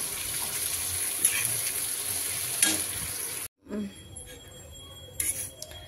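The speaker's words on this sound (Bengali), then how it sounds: "পেঁয়াজটাকে একটু হালকা ভেজে তারপরে সুজিটা দিয়ে ভেজে নিচ্ছি।" Onion and semolina fry in a pan with a constant bright sizzle and occasional stirring scrapes, broken by a brief silence and then quieter sizzling.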